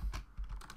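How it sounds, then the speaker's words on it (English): A few quick keystrokes tapped on a computer keyboard while entering a terminal command, close and fairly quiet. "we're going to type in uname"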